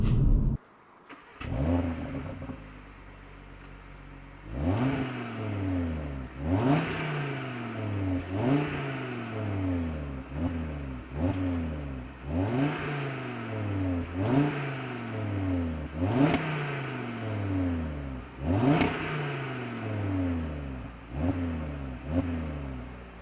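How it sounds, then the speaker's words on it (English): An Audi RS 3 8Y starts up, then its exhaust barks through a long run of about nine sharp revs in a steady rhythm, each rising and falling back to idle, recorded close with no talking. "we'll actually do a quick sound check just to see how it sounds"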